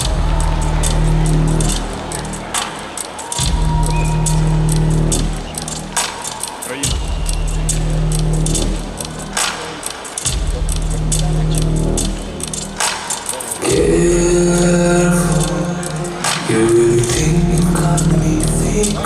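A song in a live version, played back as a loud, dense mix with a strong low-end pulse and sustained vocal lines, building in intensity near the end.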